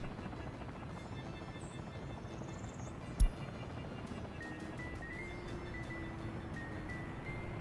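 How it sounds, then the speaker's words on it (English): Steady low rotor drone of helicopters delivering prefab panels in Workers & Resources: Soviet Republic, distant and constant, with a sharp click partway through. "Helicopters delivering prefab panels."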